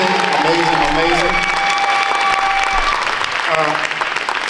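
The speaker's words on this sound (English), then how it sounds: "I just want y'all to give her a big round of applause" A fashion show crowd bursts into loud, dense applause with some cheering, blended with a voice and tonal background sound throughout.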